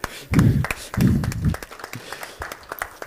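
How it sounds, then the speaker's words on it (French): A conference audience at a woodworking CNC talk applauds, with scattered claps and taps over a few low thumps, fairly close and irregular rather than a dense ovation. "On va applaudir le public."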